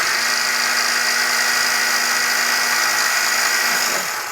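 A battery-powered bobbin winder runs with a steady, high, buzzing motor whine up close, continuous and even, slowing and dropping in pitch briefly at the very end; no voices.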